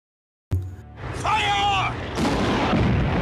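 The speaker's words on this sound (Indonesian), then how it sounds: "Pasukan Jerman mengawali pertempuran dengan tembakan anti-tank." A sudden loud blast of heavy anti-tank gunfire in a Stalingrad battle, followed by a sustained rumbling roar and whining mechanical tones, dense and close.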